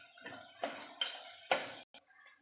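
Turmeric powder being stirred into mango pickle in a pan: a few distinct scraping clinks of a spoon against the pan at an unhurried pace, close and fairly quiet, with no talking.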